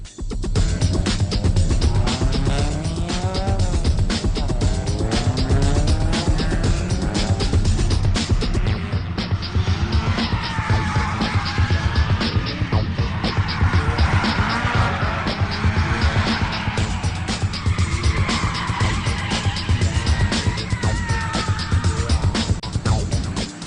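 Drift cars lapping at a non-competitive practice track day on East Track, a 1,270-meter circuit in the backwoods, with a loud, continuous roar of engines and screeching tires throughout.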